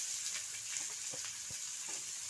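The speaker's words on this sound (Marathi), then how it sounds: "इथे आपण तेल तापायला ठेवलेलं आहे तव्यामध्ये। आपण आता कांदा टाकणार आहोत" Onion frying in hot oil in a pan for a dhaba-style shev bhaji: a soft, steady sizzle with a few faint stirring scrapes, quiet and close, with no voices.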